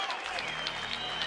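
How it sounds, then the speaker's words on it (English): A round of applause breaks out for boxers after a bout, steady dense clapping from a crowd that is fairly loud and close, with no voices on top. "Receiving a generous round of applause from the CEO and Secretary General of the IBA, Mr. Chris Roberts, OBE."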